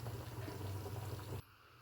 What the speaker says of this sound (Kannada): ನೋಡಿ, ಈಗ ಕುದೀತಾ ಇದೆ.